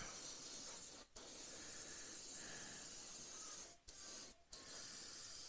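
Aerosol paint sprays in a light coat onto the canopy of a Revell PBY-5 Catalina model aircraft, a close steady hiss broken by three short pauses between bursts.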